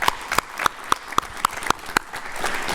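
Audience applause at a community forum on AIDS, a steady patter of many hands clapping at close range with sharp individual claps standing out, going on without a break and with no voices.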